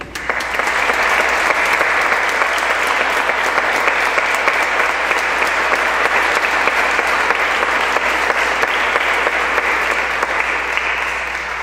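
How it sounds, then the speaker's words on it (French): A church congregation at Sunday mass applauding a small band of musicians, sustained loud even clapping that fills the whole stretch without pause. "Je pense qu'on peut les applaudir."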